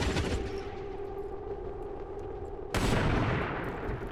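A gun fires in the video game XCOM 2, a sudden loud burst of gunfire that rings out with a rumbling tail over the steady in-game background.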